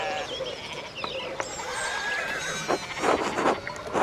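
Sheep in Pentiment hop a fallen fence rail, bleating in short, wavering calls at a moderate distance. The cries cluster toward the end over a soft background.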